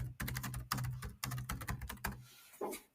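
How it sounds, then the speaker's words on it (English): Fingers type on a computer keyboard in short, quick bursts of clicking keystrokes with brief pauses between them, close and fairly quiet. "So you can type in here the title of your dashboard."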